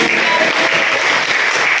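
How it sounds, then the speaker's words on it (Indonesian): Dense, continuous clapping from a group in a classroom, loud and close, filling the whole short stretch with no pauses. "Yes, tepuk tangan."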